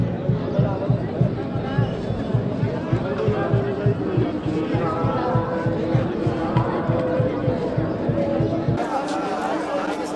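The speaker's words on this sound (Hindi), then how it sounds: "कितनी भीड़ है।" A dense crowd of pilgrims mills around Kedarnath temple, a constant babble of many voices close and far, with rhythmic thumping footsteps or drum-like beats underneath.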